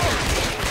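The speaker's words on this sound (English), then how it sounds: "Shoot the infected." Dense gunfire from shooting infected in the Left 4 Dead 2 video game, a brief continuous burst of rapid shots, loud throughout.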